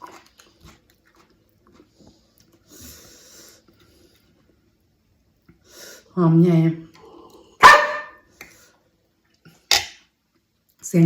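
A small dog gives a few sharp, close barks in quick bursts, separated by long quiet stretches with faint background clatter.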